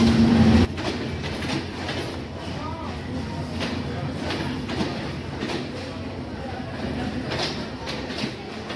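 The Panchagarh Express passenger train rolling on rails as it enters Natore railway station on a night journey, heard from inside the carriage as a steady loud rumble with rhythmic clickety-clack of the wheels.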